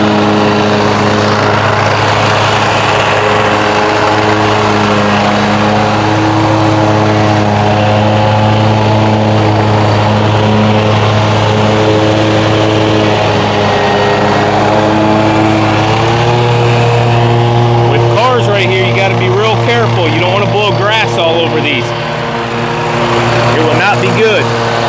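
A lawn mower runs steadily while cutting wet grass, its mid-pitched engine droning loud and close throughout, with a brief rougher surge of rattling near the end.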